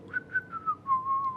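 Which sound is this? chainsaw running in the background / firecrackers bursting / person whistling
person whistling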